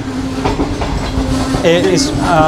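A train pulls into Chaklala station in Pakistan, wheels rumbling and clattering steadily up close with a faint squeal, loud and continuous.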